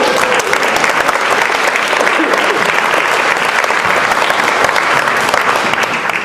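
An audience at a community luncheon applauds for honoree Andrew, joined by a cheering section and his parents. The clapping is loud, dense and sustained, with a few scattered cheers mixed in.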